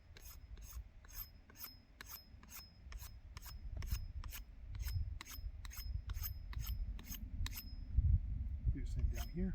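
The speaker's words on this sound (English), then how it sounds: "take the back of my knife and just scrape it, split the spine, and make it all nice and smooth" Back of a knife scraping along a piece of wood on a desert trek in the Mojave, with a quick regular series of sharp rasping strokes, close and fairly loud over low background rumble.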